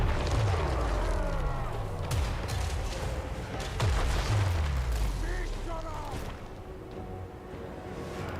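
Artillery fires in Total War Warhammer III with Chaos Dwarves, heavy booms and rumbling impacts rolling one after another amid dense battle noise, with a voice talking over the fighting.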